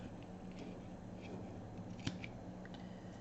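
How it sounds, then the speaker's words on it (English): Scissors snipping a piece of paper while making a junk journal craft project, a few quiet soft cuts over a low background hum, with no voices. "We need to trim that off."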